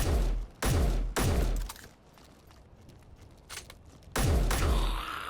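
Rifle gunfire aimed at a zombie horde in the video game Space Engineers comes in loud, close bursts: three quick volleys, a quieter lull, then a final burst. No voices.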